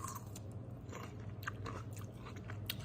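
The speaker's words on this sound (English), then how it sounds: "Listen to the crunch." Close, crisp crunching bites as firm grapes are chewed, a series of irregular wet crunches over quiet background hum.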